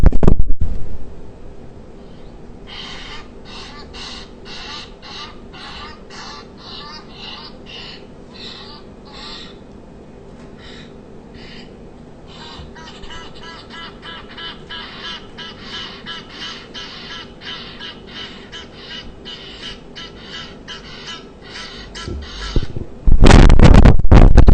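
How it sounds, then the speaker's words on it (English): A recorded Egyptian goose call plays through a speaker as a long series of rapid, rhythmic honking squawks, moderately loud and steady, followed by a loud burst of noise at the end. "I'm going to see if I can actually play the Egyptian goose for you"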